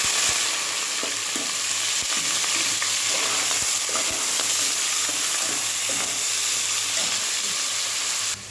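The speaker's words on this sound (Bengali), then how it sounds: "পেঁয়াজটা লাল লাল করে ভেজে নিই।" Onions frying in hot oil with whole cinnamon, cloves and cardamom give a loud, dense, continuous sizzle close by, with faint scattered ticks of stirring underneath and no talk.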